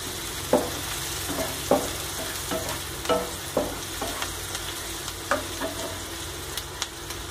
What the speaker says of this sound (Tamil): ஆனியன் போட்டு ரொம்ப பவுன்ஸாக வேணால் லைட்டாக வதக்கிக்கோங்க